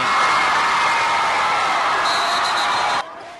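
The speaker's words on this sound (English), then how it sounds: "The crowd chanting his name." A basketball crowd roars in a steady, loud wall of voices as it chants a player's name during a high school game at the OKC Thunder arena. The din cuts off sharply near the end.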